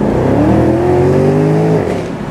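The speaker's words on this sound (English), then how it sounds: "it does like a kind of a brap sound, brap, brap sound when you uh, towards the end of the gear there before it shifts" A Porsche Panamera Turbo's engine and exhaust drone loud and steady under acceleration, then the tone drops sharply at a gear shift and fades to a lower rumble.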